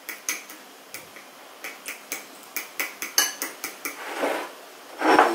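Chicken is mixed into beaten egg in a bowl, a utensil tapping and clinking against the bowl in a quick rhythmic series of a dozen or so hits, ending in a brief scraping swirl.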